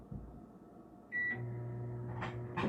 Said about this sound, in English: Alexa, microwave for 1 minute.